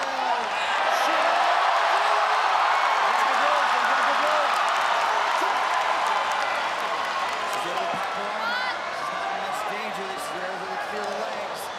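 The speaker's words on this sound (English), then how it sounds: "The Singaporean crowd." A packed Singapore arena crowd at a ONE Championship mixed martial arts bout keeps up a continuous loud roar with scattered shouts and claps, under a commentator calling the action.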